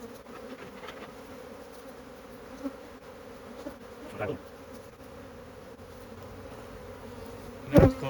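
Honeybee swarm buzzing steadily around the entrance of a hive block, a continuous low drone of many bees with occasional closer passes and a sharper buzz near the end.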